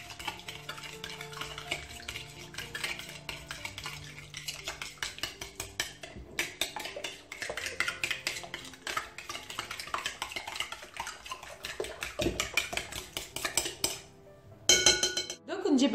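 Dry ingredients including sugar and baking powder are stirred together in a bowl for Turkish pide dough, with steady scraping and clinking of a utensil against the bowl, near and continuous, and a louder knock near the end.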